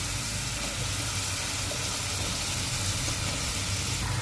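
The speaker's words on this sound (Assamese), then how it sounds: "এতিয়া আমি সবজিখিনি ঢালি দিম" Mixed vegetables hit hot fried masala in a pan, setting off a dense, steady sizzle that holds at an even level throughout, close and unbroken.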